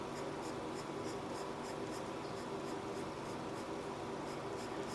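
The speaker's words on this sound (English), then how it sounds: "So I'm going to erase every little mark that's behind this wire we just drew in." Pencil drawing and erasing on paper while sketching a Portal gun: steady scratchy rubbing strokes repeat in a quick even rhythm, close and continuous for the whole stretch, with no talk.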